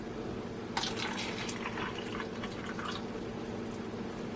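Resin pours into a plastic mixing cup, a soft trickling splash that starts abruptly and fades, faint and alone against a low background hum.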